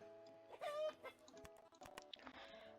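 Chickens cluck and squawk in the Farming and Friends video game, a few quick bursts over a soft musical backdrop, fairly close and moderately loud.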